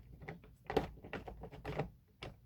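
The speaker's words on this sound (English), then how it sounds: "Listen to the lock." An ONNAIS RV electronic door lock that fails to engage makes a series of short clicks and mechanical clacks in an irregular rhythm, close by and fairly quiet.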